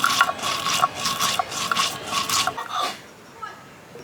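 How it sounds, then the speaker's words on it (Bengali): Cumin seeds being ground by hand on a grinding stone in a village kitchen, a rhythmic back-and-forth scraping with about six regular strokes, close and fairly loud, fading to quiet near the end. "জিরা বেটে নিচ্ছি, বাটা মশলা রান্না করব।"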